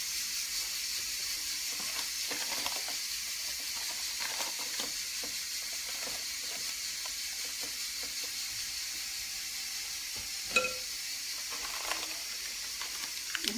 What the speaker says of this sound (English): Let me turn that off and start releasing the pressure.